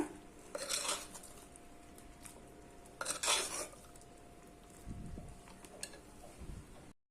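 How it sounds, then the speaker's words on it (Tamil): A spoon scrapes and clatters against a cooking pot while boiled chickpea sundal is stirred into thickened jaggery syrup, with a few distinct bursts of metallic scraping separated by quieter pauses. "இப்போ நல்லா நம்ம இந்த வெள்ளை தண்ணியோடு கலந்து விட்டுலாம் எல்லாம் சேர்ந்து வேகணும்"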